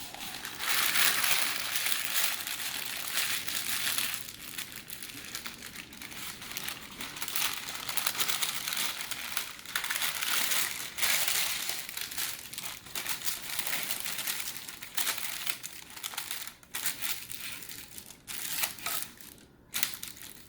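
Parchment paper is crumpled by hand in the kitchen, a loud, continuous crackling and crinkling close up that lasts throughout with brief sharper crunches and no talking.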